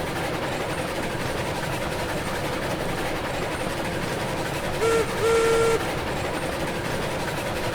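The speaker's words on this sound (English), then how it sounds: "I just like honking the train horn. Or whistle, I guess." A steam locomotive whistle in the railroad game Railroads Online sounds in two short blasts near the end, over a steady rumble of the train rolling along the track.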